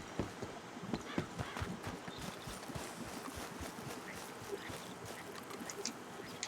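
Horse hooves clip-clopping in Red Dead Redemption 2, a steady rhythmic trot drawing closer over outdoor game ambience, with a soft snort or whinny mixed in.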